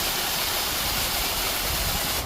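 The Meghamalai waterfall roars as a constant, dense rush of falling water, loud and unbroken from start to finish with no voices.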